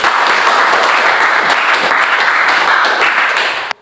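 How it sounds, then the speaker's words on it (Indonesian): A classroom audience of students claps for a presenting group, a dense, steady burst of applause lasting several seconds before cutting off abruptly. "ayo berikan aplaus untuk kelompok 1"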